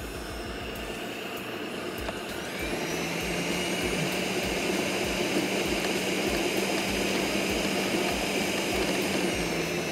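An electric mixer beats butter in a bowl for butter petit four cookies, a steady loud whirring drone that grows stronger after a couple of seconds and holds evenly to the end.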